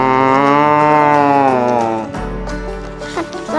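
A water buffalo lows as a sound effect in a bedtime story about a frog and a water buffalo. It is one long, loud, drawn-out moo that fades into low background noise.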